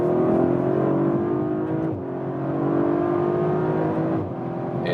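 Performance coupé, BMW M4 or Audi RS5, accelerating hard through paddle-shifted gears toward the rev limiter, loud engine note rising with brief dips at shifts, heard from inside the cabin.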